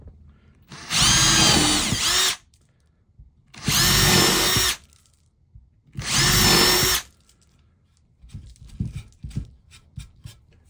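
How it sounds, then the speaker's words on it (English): Amana countersink bit boring countersink holes in wood with a power drill, three loud whirring bursts of about a second each separated by pauses, followed by faint handling knocks. "now I'm going to use the new Amana countersink bit"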